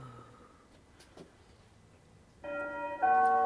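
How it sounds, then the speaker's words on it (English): A two-tone electronic chime rings out at close range, two bright tones in quick succession after a quiet stretch. "I'm going to ring the doorbell."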